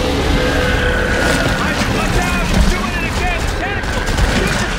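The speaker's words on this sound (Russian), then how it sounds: "Я стреляю по щупальцам" Rapid gunfire in Dead Space 3 as a player shoots at writhing tentacles, dense continuous bursts with booming low end and ringing chirps over a loud game backdrop, with voices talking throughout.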